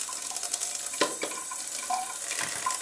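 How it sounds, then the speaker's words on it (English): Hot water runs from a tap over the edge of a plastic bottle, a steady close splashing stream with a few brighter spatters and gurgles as the flow hits the plastic. "Run that hot water right underneath that edge,"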